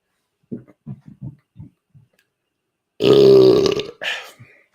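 A loud, drawn-out burp erupts after a few short soft sounds, followed by a briefer second belch, close up and alone with no talking.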